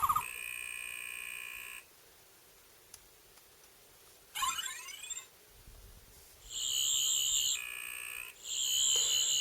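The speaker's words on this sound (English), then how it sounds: "So FX mode, quite simply, it just turns it into a FX sonic screwdriver." Doctor Who sonic screwdriver universal remote in FX mode, emitting bursts of warbling electronic buzzing and rising whistling sweeps, separated by short gaps of near silence.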